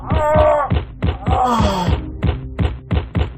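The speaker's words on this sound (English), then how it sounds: "only a sound of blows and feet and heavy breathing" A rapid series of heavy thuds from blows and stamping feet, mixed with groaning, strained breathing, as a man is beaten down during a violent struggle; about a dozen close, loud impacts in quick rhythm.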